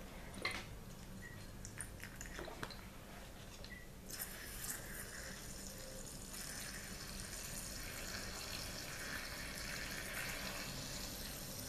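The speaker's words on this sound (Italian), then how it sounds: "Ora vado ad aggiungerci l'acqua." Water poured from a tap into a bottle while making lemon detox water: a soft, steady trickle and splash with a few faint clinks early on, continuous and fairly quiet.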